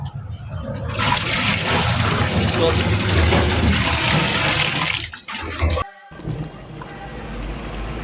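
Water gushes and splashes loudly into a pot for several seconds, then stops abruptly, leaving quieter background sounds and a voice.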